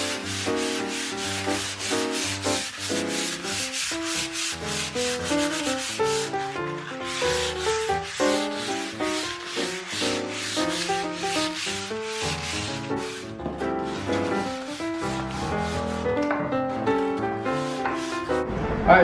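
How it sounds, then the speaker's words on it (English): Fine sandpaper rubs rhythmically back and forth across a stained wood mantel, brisk close strokes in quick succession that slow and loosen toward the end, with no talk. "First, we're gonna sand it with a really fine sandpaper"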